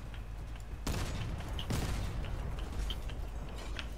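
Gunfire and heavy weapon blasts from armored vehicles in a Crossout clan war match, a few loud booming bursts over a constant mechanical engine rumble, with brief metallic pings between shots.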